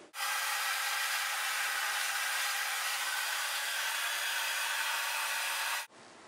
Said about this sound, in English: I am just going to flip my head and blow dry it